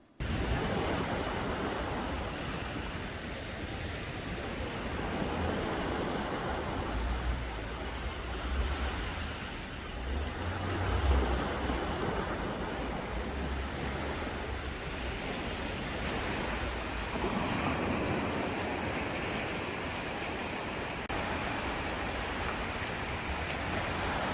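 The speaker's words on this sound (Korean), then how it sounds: "겨울바다 너무 좋아요." Winter sea waves at Eurwangni beach wash in as a steady, continuous surf roar with gentle swells and some wind noise, loud and close, with no voices.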